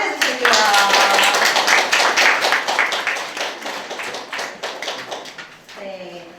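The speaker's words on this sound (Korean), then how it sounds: "선배 먼저 큰 박수로 맞이해 주실게요" An audience at a school-admissions talk with invited senior students applauds in a dense burst of clapping that tapers off, under voices, with a brief renewed patter at the end.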